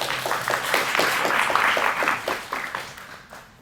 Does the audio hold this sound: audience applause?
yes